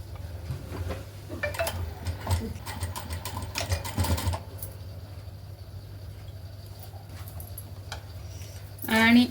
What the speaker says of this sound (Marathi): आता आपल्याला ब्लाऊज उलटा करून अजून एक दाबटीप टाकून घ्यायचे